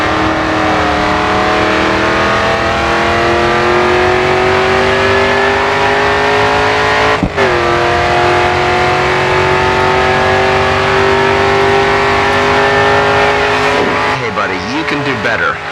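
A race car engine in GRID 2 holds a loud, sustained full-throttle drone with rising harmonics, a sharp gear shift around midway, then keeps pulling; tire squeal and talk run over it.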